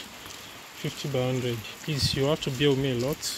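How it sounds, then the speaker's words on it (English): Rain falls in Benin City, Edo State, Nigeria as a steady hiss beneath someone speaking outdoors. "It's raining"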